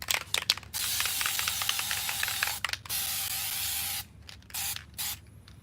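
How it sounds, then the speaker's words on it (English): A spray can sprays dye onto suede-covered interior trim pieces from an Infiniti G37 coupe: several close, loud hissing bursts of varying length, separated by short pauses and faint rattling clicks. "once you spray that, then I recommend you come over here and spray your fabric."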